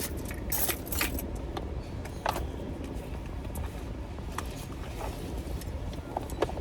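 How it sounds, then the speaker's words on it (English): Keys jangle in short, repeated metallic bursts close by, over a steady low rumble of a nearby car, with no talking. "I think your keys are in here."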